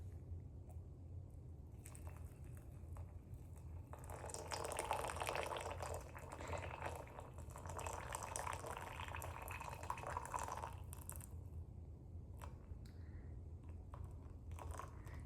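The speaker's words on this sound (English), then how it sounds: "let me go ahead and show you what it looks like pouring" Water pours from a Cocinare 1500W gooseneck electric kettle in a slow, controlled stream, a faint trickle that swells into a fuller splash midway and then thins out to scattered drips.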